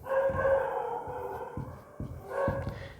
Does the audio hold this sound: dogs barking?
yes